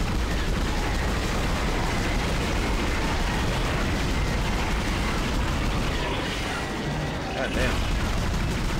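Dense, continuous gunfire and explosive bursts from the sci-fi horror game Dead Space, loud and sustained throughout, with a voice briefly speaking over the action.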